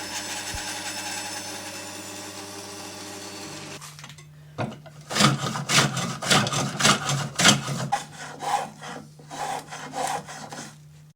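Hand tool working the wood of a half-hull model: a steady hum at first, then a run of rhythmic scraping strokes of varying loudness, close and alone.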